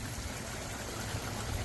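Water trickles steadily from a backyard pond waterfall, heard from the street, a continuous soft splashing wash with no voices.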